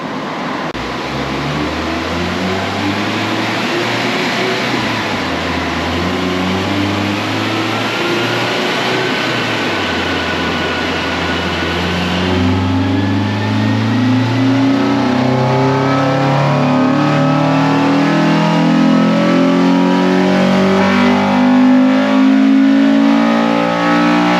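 Naturally aspirated car engine on a dyno in 4th gear, a loud, continuous pull with the engine note climbing steadily in pitch over about twenty seconds, no speech over it.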